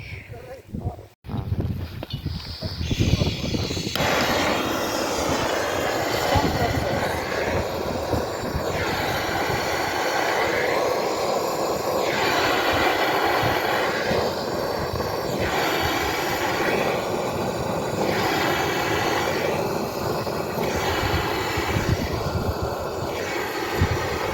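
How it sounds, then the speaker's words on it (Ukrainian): A gas torch burning holes in plastic film gives a loud, continuous roaring hiss that swells in a regular rhythm as each hole is burned, with someone talking over it. "тут треба регулювати газ, як він ітиме, як воно горітиме, щоб гарно випікало дірочки"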